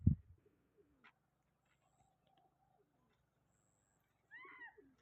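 Soft, low pigeon cooing in a quiet outdoor setting, with a brief bump at the start and a short coo or call near the end.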